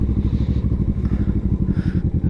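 A Kawasaki Vulcan S motorcycle out on a ride, its engine giving a loud, steady pulsing rumble with a rhythmic throb close up, plus faint wind rush.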